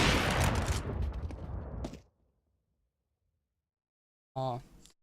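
Gunfire from the video game Counter-Strike during an esports league match, a loud dense burst of shots at the start that cuts off into silence, followed by a brief sharp sound, with a commentator's voice over it.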